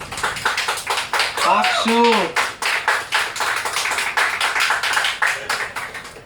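Passengers on a city bus in Busan clap steadily in an enclosed space, a dense and rhythmic run of claps. Voices chime in briefly partway through.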